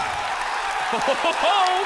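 Esports arena crowd at the 2018 Call of Duty World League Championship cheering and applauding steadily, a broad roar under loud excited commentator talk throughout.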